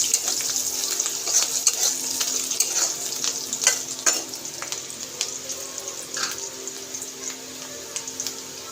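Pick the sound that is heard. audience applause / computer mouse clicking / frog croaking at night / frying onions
frying onions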